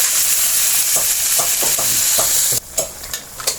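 Steady loud sizzling of eel meat stir-frying in a wok, with repeated scraping and clanking of a spatula; the sizzle drops away near the end, leaving a few clanks.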